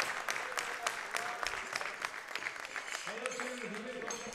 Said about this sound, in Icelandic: það klappa vel fyrir henni